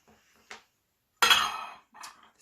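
A glass jar lid is handled on a table, giving a few sharp clinks and a louder scraping clatter, with brief light taps around it in an otherwise quiet room.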